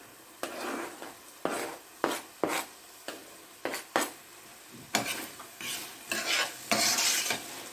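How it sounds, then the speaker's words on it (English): Meat stirred into a sizzling mixture in a pan while making pizza topping, a run of close spoon scrapes and clanks against the pan over a continuous frying sizzle, with no talk. "we are going to add our meat into this mixture."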